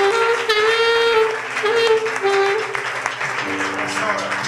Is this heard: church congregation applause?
yes